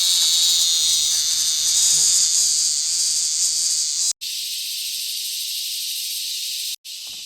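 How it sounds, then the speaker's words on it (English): A cicada in the Atauro Island forest, Timor-Leste, buzzes loudly and close in a steady harsh drone that cuts off and restarts, with a softer continuous buzz afterward. "There's a cicada."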